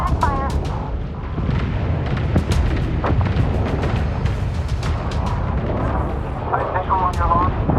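Kinetic weapons fire strikes a ship in the space strategy game Homeworld 3: a dense, continuous barrage of heavy booms and rumbling impacts, with clipped voices talking over it throughout.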